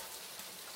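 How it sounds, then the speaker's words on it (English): Rain falls outdoors during a UK hail storm beside a Vauxhall Tigra, a dense, even, close hiss of drops striking surfaces with no voices, lasting only a brief moment. "Oh dear, look at the rain."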